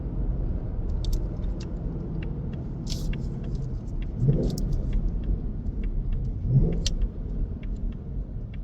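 A 2026 Ford Mustang GT with a six-speed manual pulls in third gear, giving a steady low engine rumble from inside the car with two brief surges as the throttle swells, alongside faint rattles and clicks.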